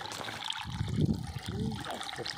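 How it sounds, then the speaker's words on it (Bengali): Water trickles in from a drain into a paddy field, a soft steady gurgle with faint splashy swells, heard close in an open outdoor setting. "ড্রেন দিয়ে পানি আসছে"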